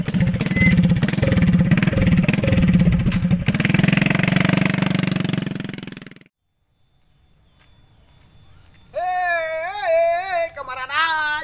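A motorcycle with failed brakes rumbles loudly for several seconds, then cuts off. After a quiet gap, a voice with a tonal, cat-like quality is heard.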